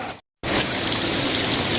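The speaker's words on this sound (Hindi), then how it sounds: "और ज़ोरदार बारिश हो रही है आज" Heavy monsoon downpour at Chelawas near Marwar Junction in the Aravalli range, Pali district, a dense steady roar of rain hammering surfaces, cutting out briefly near the start before resuming loud and unbroken.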